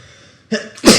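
One sharp, close sneeze bursts out after a short intake of breath, loud and sudden in a quiet room.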